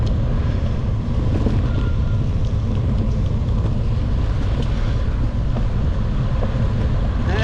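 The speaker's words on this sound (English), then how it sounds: "Got a little bit of breeze now too, so it's probably like a southwest wind today." Breeze buffeting the microphone during a gravel bike ride in Andalusia with a southwest wind, a steady low rumble that fills the whole stretch without letting up.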